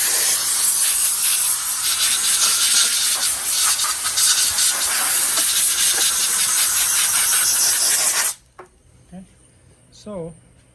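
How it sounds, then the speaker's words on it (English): Compressed air blasts loudly and steadily over the sanded joints and corners of a wooden shelf with bevel cuts, a broad continuous hiss lasting about eight seconds before cutting off, followed by quiet room sound and a brief faint voice. "you want to blow all the corners, all the joints where you sand it to unveil any gap"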